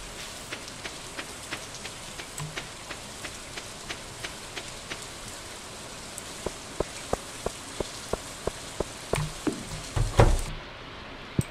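Steady rain falls in the farming video game Stardew Valley, a constant soft patter with scattered droplet ticks and a few louder clicks near the end, with no voices.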